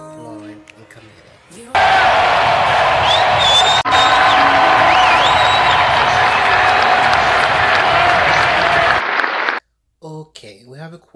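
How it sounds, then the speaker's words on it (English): Fans at a Fifth Harmony event burst into loud applause and cheering for the group, a dense, sustained wall of clapping with whoops and high screams that cuts in sharply and stops abruptly, with brief speech before and after. "let's give a round of applause for Allie, Normani, China, Lauren, and Camila."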